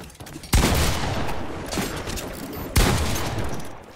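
Gunfire from a gun in a Fortnite-style video game comes as loud, dense bursts of shots, one big volley near the start and another past the midpoint, rattling on in between.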